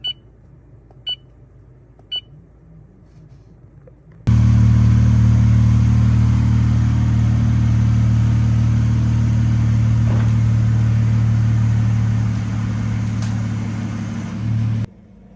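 A car starts and idles loud and close, a steady low engine drone running for about ten seconds after a few short beeps, then cutting off.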